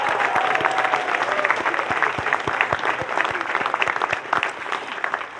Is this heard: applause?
yes